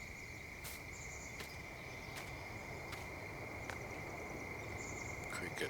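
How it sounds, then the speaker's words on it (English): Crickets chirp in a steady, unbroken trill across a quiet rural night in Farming Simulator 19, joined by a few brief clicks and faint higher calls, with no voices. "Crickets."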